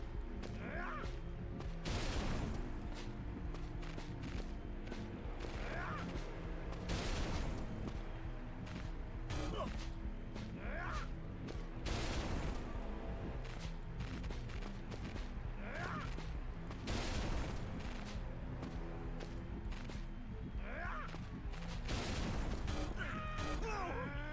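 A gun repeatedly fired in the video game Concluse 2, producing sharp, evenly spaced shots across the stretch over a loud, busy mechanical game backdrop.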